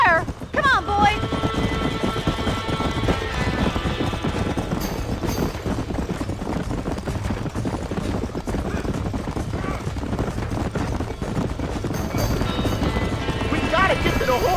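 Horse hooves clip-clop steadily in Red Dead Redemption during a barn fire, with a brief whinny near the start, mixed under excited shouting voices and busy game noise throughout.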